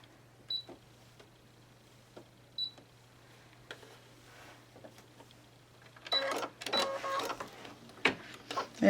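An embroidery machine stitches an in-the-hoop paper-pieced block. The first six seconds are quiet apart from a few soft clicks, then a burst of rapid, dense mechanical stitching runs close and fairly loud to the end.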